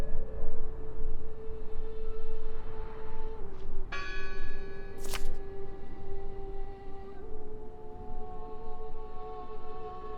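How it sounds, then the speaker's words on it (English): A church bell in the video game Draugen strikes once with a bright, ringing clang that hangs and decays over a steady ambient drone and hum. "Listen! The bell!"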